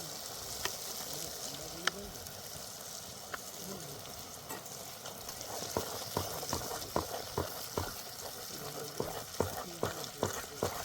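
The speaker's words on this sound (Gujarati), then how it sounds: "હવે આપણે આમાં નાખી દઈશું દહીં." Yogurt being stirred into a thick tomato-and-onion gravy in a pan for paneer handi: a steady sizzle with repeated sharp spoon taps and scrapes against the pan, growing more frequent toward the end, with no talking.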